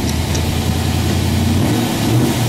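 A blue, all-original 1964 Shelby AC Cobra with its 289 V8 revs and runs up close, a steady, rough engine roar that holds throughout with no talk over it.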